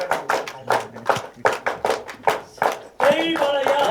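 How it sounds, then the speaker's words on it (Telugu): An audience at a film trailer launch event claps in a 1-2, 1-2-3 rhythmic pattern, sharp unified bursts repeating several times, then breaks into loose continuous clapping and cheering. "1 2 1 2 3 క్లాప్ చేయండి ఒకసారి."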